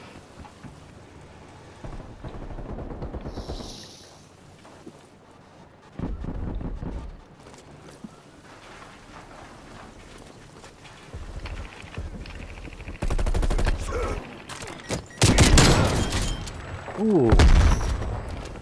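Shotgun blasts and other gunfire in the multiplayer shooter Call of Duty Black Ops Cold War, several loud sharp bursts scattered between quieter stretches, with a voice briefly exclaiming.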